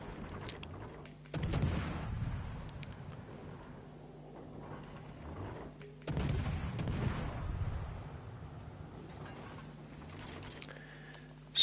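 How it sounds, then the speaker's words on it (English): Warship guns fire in a naval video game, two heavy, distant-sounding booms about five seconds apart, each rolling out into a long rumble over a quieter ambient background. "Go on, fire your guns at me."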